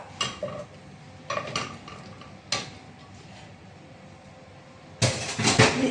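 Mango pieces tipped into a cooking pot for a Kerala mango pulissery: a few close clinks and clatters of pieces and utensil against the pot, spaced apart, ending in a louder rattling burst, with no talk.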